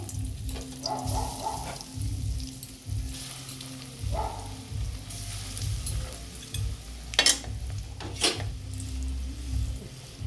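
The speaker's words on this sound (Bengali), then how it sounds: "আমি তেল চাপিয়ে দিয়েছি তেলটা আমার গরম হয়ে গেছে" Winter vegetable balls sizzle steadily in hot oil, close and constant, with a few sharp pops and light clinks along the way.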